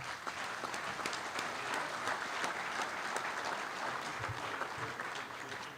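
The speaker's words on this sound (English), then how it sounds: "Let's give our winners a big round of applause." Steady applause from an audience at a general session of an annual convention, honoring award winners, dense and continuous clapping throughout with no voices standing out.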